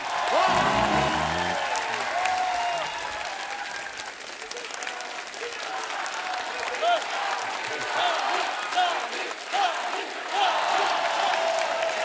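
Studio audience applauding and cheering as actor Sunny Deol is welcomed on stage, a loud sustained wash of clapping with whoops and shouts throughout, and an amplified host voice heard briefly at the start.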